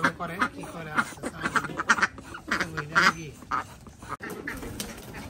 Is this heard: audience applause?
no